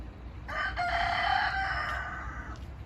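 A rooster crows once, loud and close, a long drawn-out call holding for about two seconds over low background rumble.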